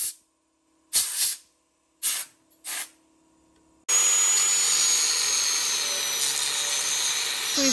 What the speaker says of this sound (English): So he's grinding the head of the bolt.